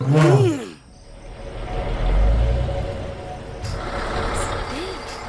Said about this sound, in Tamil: வண்டி வருதுடா மாஸ்டர்